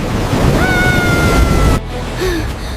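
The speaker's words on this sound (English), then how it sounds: "The giant wave is coming right at me!" Giant ocean wave rushing at a beach, a loud wash of surf and wind noise that cuts off sharply near the end, with a faint tonal whine over it.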